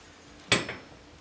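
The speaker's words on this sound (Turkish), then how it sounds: "Şimdi tencereyi ocağa koyuyorum." A single metallic clunk as a pot of rice and milk is set down on a stove, followed by a brief ringing decay, in an otherwise quiet room.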